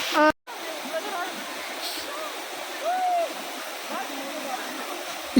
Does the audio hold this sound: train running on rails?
no